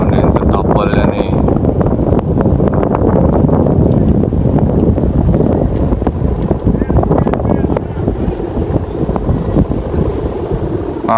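Steady wind blows hard across the microphone at Mertasari beach, where big kites are flown ahead of a competition, giving a loud continuous roar with gusty rumble throughout.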